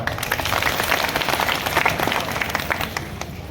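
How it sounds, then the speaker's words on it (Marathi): Sustained applause from an audience at an election campaign rally, dense steady clapping with crowd noise running throughout at an even loudness. "त्यांच्यासाठी एक टाळ्या वाजवा"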